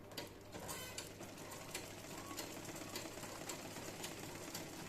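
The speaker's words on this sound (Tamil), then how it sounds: "ரெண்டு தையல் நல்லா ரிவர்ஸ் போட்டு போட்டுடலாம்" A sewing machine stitching the shoulder seam of a blouse lining, a quiet steady mechanical whirr with rapid needle ticking, running alone without talk.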